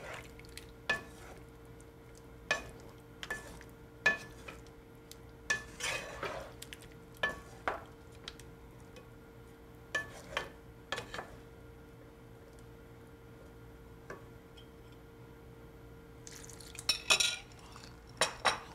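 A sweet potato mixture is stirred in a pot, with sharp, close spoon knocks and scrapes against the metal at irregular intervals, separated by quiet pauses, and a short flurry of clatter near the end.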